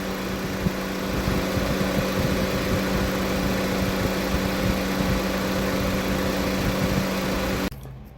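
A car engine idles steadily with a constant low hum and faint vibration throughout, during car air conditioning recharging, with no talk, ending abruptly.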